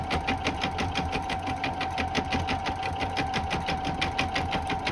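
Embroidery machine stitching thread, a fast, even mechanical rattle with steady rhythmic needle strikes and a constant motor hum, close and alone.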